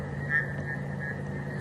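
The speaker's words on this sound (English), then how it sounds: "Frogs are calling, a lot of crickets and insects." At night in the African bush on a sunset game drive, frogs call in a sustained high trill over a low background hum of insects, steady and moderately near.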